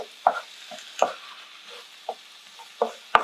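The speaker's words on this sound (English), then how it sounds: "and garlic into the mince. Trying to brown it just a bit" Beef mince with onions, mushrooms and garlic being stirred and browned in a pan: a quiet low sizzle punctuated by several sharp scraping stirs at irregular intervals.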